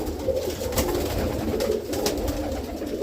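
Pigeons coo steadily in a loft, soft overlapping rolling calls close by over a constant muffled rustle, with no talk.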